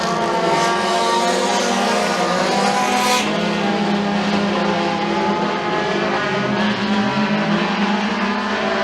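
Dirt track race cars roar around the oval at McKean County Raceway during a heat race, a loud, steady engine drone with shifting pitch as the field powers down the back straightaway.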